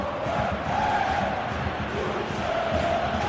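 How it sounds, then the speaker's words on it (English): A stadium crowd in the PES 2018 football game roars and calls out steadily throughout, a dense, continuous wash of voices. "Crowd calling for him to shoot."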